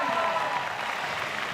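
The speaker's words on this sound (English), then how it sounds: "the crowd's going crazy." At a women's boulder climbing final in Salt Lake City, a dense crowd cheers and applauds continuously, loud and steady, with a commentator's voice faintly mixed in.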